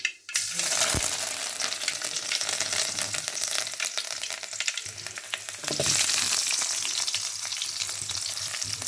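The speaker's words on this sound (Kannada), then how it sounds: "ಎಣ್ಣೆ ಕಾದಿದೆ ಸಾಸಿವೆ ಸಿಡಿತಾ ಇದೆ ನೋಡಿ" Steady, loud sizzling of mustard seeds and curry leaves tempering in hot oil, with crackles and a few sharp pops as the seeds burst, continuous throughout with no talking.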